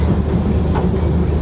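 Darjeeling toy train hauled by a diesel locomotive rolls along, a steady, loud rumble with rhythmic clickety-clack of wheels on rail joints, heard from on board with no talking.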